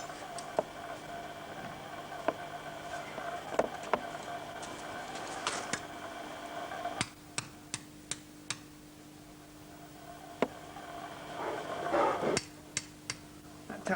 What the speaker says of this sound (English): female-ended universal joint goes onto the steering shaft end of the rack, and that will just tap on